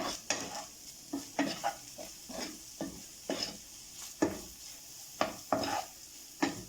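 Spiced minced meat stirred in a pan, a soft sizzle broken by repeated scraping and clinking strokes of a utensil against the pan in an uneven rhythm, close by, with no voices.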